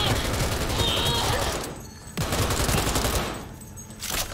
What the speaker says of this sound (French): Ça en jette cette arme à feu